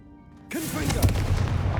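A Confringo blasting spell goes off in Hogwarts Legacy, a sudden loud explosive burst that cuts in after a quiet lull and rolls into a dense, rumbling crackle of debris and effects lasting to the end.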